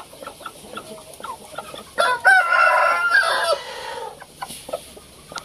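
Shamo chickens cluck in short, repeated bursts close by, with one loud, drawn-out crow rising in the middle before the clucking resumes.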